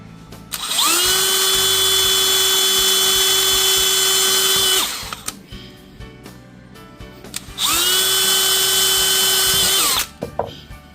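A power drill whines loudly at a steady pitch for about four seconds while driving studs into a Ski-Doo MXZ XRS 850 Turbo snowmobile track, stops with some clatter, then runs again for another few seconds.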